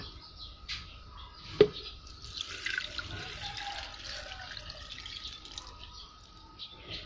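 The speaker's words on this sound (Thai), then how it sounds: "แล้วสุดท้ายนะคะตามด้วยน้ำเปล่าค่ะ" Plain water poured into a blender jar with leafy green plant material for a homemade fertilizer mix, a soft continuous splashing trickle with a brief louder knock near the start.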